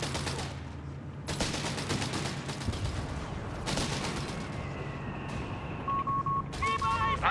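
Bursts of rapid gunfire rake a Panzer company in a Company of Heroes 3 battle between Wehrmacht and British forces, with crackling volleys in several separate bursts. Short electronic beeping tones chime near the end.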